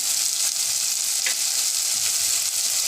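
Tomatoes sautéing with curry leaves and salt in a pan for cabbage sodhi give a steady, close frying sizzle with faint stirring scrapes, continuous and without any talk.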